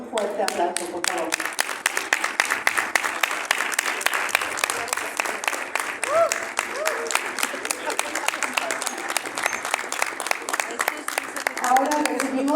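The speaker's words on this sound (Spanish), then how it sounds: "Recibámoslo con un fuerte aplauso, por favor." An audience at a cartoonists' panel at a book fair applauds to welcome a speaker. The clapping is dense and sustained across the whole stretch, with a few voices calling out over it.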